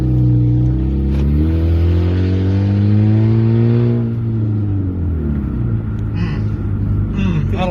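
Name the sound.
Dodge Dart engine revving with muffler deleted, loud exhaust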